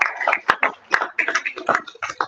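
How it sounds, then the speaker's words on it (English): A small audience claps after a presentation at the AfCFTA summit, producing sparse, uneven hand claps at close range, irregular rather than a full ovation. "Please give another round of applause to Mr. Tamara Abdul for making that very useful presentation"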